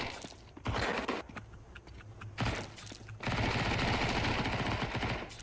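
Bursts of SMG fire in the video game Counter-Strike 2, with rapid automatic strings cutting in and out and a long sustained volley near the end, close and loud.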